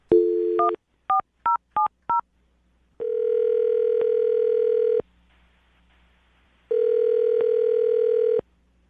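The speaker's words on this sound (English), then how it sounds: "I'm about to dial the phone number and get her on the phone" Telephone touch-tone dialing: a short opening tone, then several quick beeps, followed by two long steady ringback tones separated by a pause.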